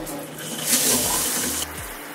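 Shower water runs in a steady hissing stream, holding constant with a slight swell partway through before settling back to an even rush.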